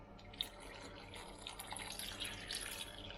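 Water poured into a cooking pot of cumin and lime juice: a soft, splashy pour that starts with a small knock and grows slightly fuller toward the end, faint and close, with no talk.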